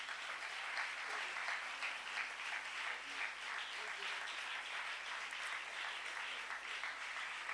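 A church congregation breaks into sustained applause after a Bible reading, a dense, even wash of many hands clapping that holds steady throughout.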